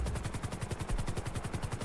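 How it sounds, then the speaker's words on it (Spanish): Rapid automatic gunfire in a video game rattles in an even, fast rhythm of repeated shots, fairly faint and continuous throughout, with no talk. "Joder, que se escucharon disparos."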